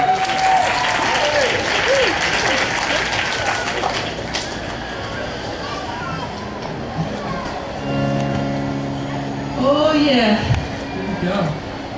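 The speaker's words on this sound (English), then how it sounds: "If you guys give a round of applause for the weather as I get this thing going." Applause from an outdoor audience at a live original-music performance, a dense wash of clapping that runs steadily through the clip with voices and crowd murmur mixed in, fairly close and full.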